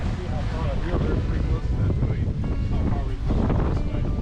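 A strong gust roars over a sailboat in the Patagonian wilderness, steady heavy wind buffeting the microphone with low rumbling and splashing water, while voices speak over it.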